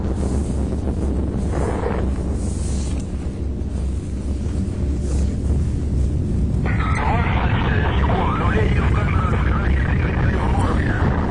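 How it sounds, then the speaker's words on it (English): A Proton rocket carrying the Astra-1K spacecraft lifts off, a continuous heavy roar mixed with wind buffeting on the microphone, loud and sustained throughout, with a brighter rumbling surge in the later part. "We have liftoff of the Proton carrying the Astra-1K spacecraft"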